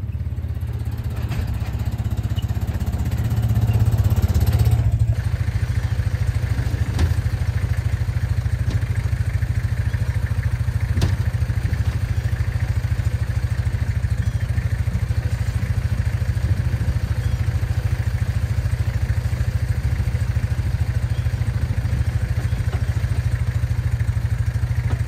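A small four-wheeler ATV engine idles nearby in a steady, low putter, with a brief rise in loudness early on before it settles into an even, continuous drone.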